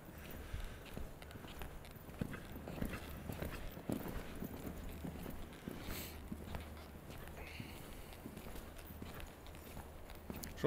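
A horse walking under a rider, steady rhythmic clip-clop of hooves at moderate distance, with faint talk in the background.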